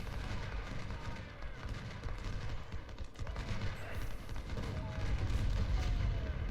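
Artillery booms and rattling gunfire from a Union campaign battle in the American Civil War strategy game Ultimate General: Civil War, faint and continuous, swelling toward the end.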